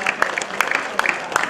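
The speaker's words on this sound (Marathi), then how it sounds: "टाळ्या" Applause from a crowd at an open-group final match, with scattered claps under a steady murmur of noise; individual hand claps stand out at intervals throughout.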